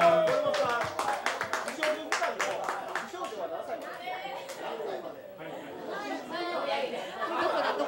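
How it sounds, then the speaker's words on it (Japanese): Clapping from a studio audience at a live variety broadcast, a burst of quick claps at the start that settles into lively chatter and laughter with more scattered clapping. "はい拍手"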